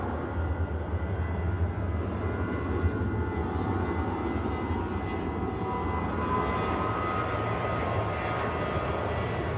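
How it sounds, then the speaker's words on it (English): A Velocity Boeing 737-800 on the runway at Sydney Airport at night gives off a steady, heavy engine roar from some distance, filling the clip with no talking. "It's a Velocity aircraft now on the runway."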